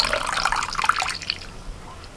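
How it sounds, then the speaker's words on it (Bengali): Grated potatoes are swished and rinsed in a bowl of cold water, a brief, close splashing and trickling that fades toward the end. "এই জলটা একটু ভালো করে ধুয়ে নিয়ে আবারও আমি এখান থেকে ছেঁকে"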